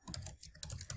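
Rapid, quiet keystrokes clatter on a computer keyboard while notes are typed into Evernote, an uneven run of close, light clicks with no voices.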